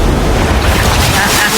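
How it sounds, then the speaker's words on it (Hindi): A big ocean wave rolls in beside a rocky island shore, a loud, broad wash of surging water mixed with heavy wind buffeting the microphone, continuous and close. "ये आई बड़ी लहर।"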